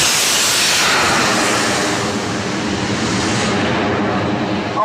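Bang fai rocket launching at a Thai rocket festival field, a loud, steady roaring rush of thrust with broad hiss that holds for the whole stretch, close and overwhelming, with no talk heard.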